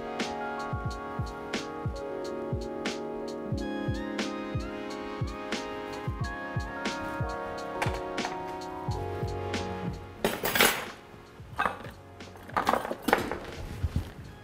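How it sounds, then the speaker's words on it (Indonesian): Chicken pieces are stirred with spices in a bowl while making Ayam Woku, a spiced chicken dish, giving repeated soft clinks and scrapes over steady background music, with a louder burst of clattering near the end. "Lalu tinggal kita aduk rata."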